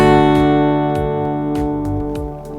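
A guitar chord is strummed on only the four thinner strings, with the 5th and 6th strings left unplayed. The strums repeat in a steady rhythm, each one ringing on close and clear with no voices.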